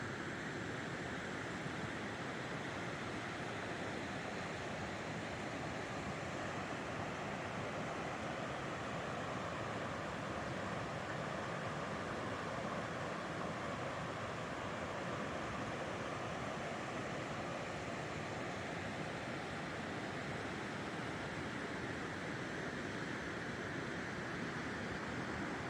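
River water on Elk River Road in Curry County, a back road, rushes steadily and evenly as a broad, continuous wash with no break or voices for the whole stretch.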